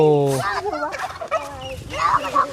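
A turkey gobbles loudly and close, with a rapid rattling burst at the start followed by several more warbling gobbles, heard alone on a farm plot.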